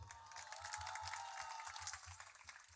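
An audience applauds at a ghazal performance, a dense, steady wash of clapping that carries through the whole passage at an even, fairly loud level.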